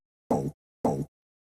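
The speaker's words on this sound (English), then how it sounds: "all it is just this little vocal stab" A short sampled vocal stab for a tech house track sounds twice, two brief clipped bursts about half a second apart, each alone against silence.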